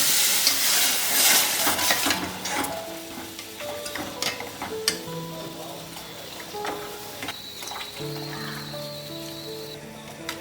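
Ground masala for South Indian rasam hits a hot pan, starting with a bright sizzle and clattering stirring that gradually settles into quieter frying and scraping, with faint tonal sounds in the background.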